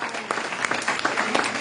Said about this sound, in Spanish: Denle un aplauso grande al Señor.